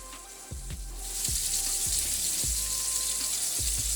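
Tri-tip steak sears in lard in a thin-bottomed pan, giving a steady bright sizzle and spatter throughout, with a few low knocks and clunks from the pan recurring under the frying.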